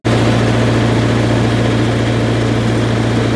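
A farm generator runs steadily, a loud, constant low engine drone with a strong hum that holds unbroken from start to finish with no pauses.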